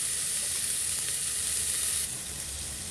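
Chicken browning in oil in a pressure cooker sizzles with a steady, bright hiss that fills the whole moment, easing slightly partway through, with no talk.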